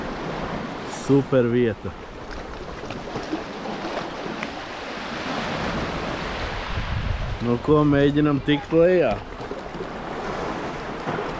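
Sea waves wash against the coast at the Liepāja southern forts, a steady rolling surf mixed with wind buffeting the microphone, heard beneath short bursts of people talking.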